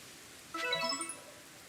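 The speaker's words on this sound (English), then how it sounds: "Your arc phone's beeping." Arc Phone beeping in the video game Pokémon Legends: Arceus, a short bright rising-and-falling chime of tones lasting about half a second over quiet background.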